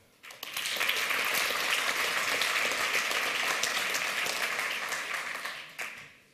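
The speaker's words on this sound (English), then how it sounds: "give a big clap to the organizers" Loud, sustained applause from a large conference audience at the 28C3 Chaos Communication Congress, steady clapping for several seconds before tapering off at the end.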